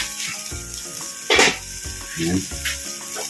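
Ginataang kalabasa, squash simmered in coconut milk, being stirred in a pan, with a soft bubbling sizzle and a few scraping clatters of a spoon against the metal, under brief talk.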